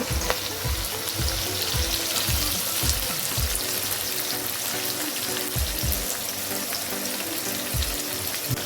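Chopped onion hitting hot oil with browned garlic for a Maharashtrian wild-vegetable dish, a loud, dense, crackling sizzle with bursts of popping throughout, close and steady with no talk.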